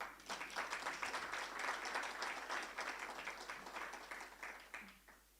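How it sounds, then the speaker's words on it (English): An audience at a research chair launch and anniversary celebration claps for about five seconds, a dense, steady burst of many hands that swells, then tapers off toward the end. "I would like you to clap your hands for yourselves"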